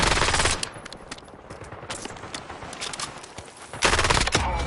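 Automatic gunfire from Call of Duty: Warzone gameplay, loud rapid bursts at the start and end with a quieter stretch of scattered shots and ambient game noise between.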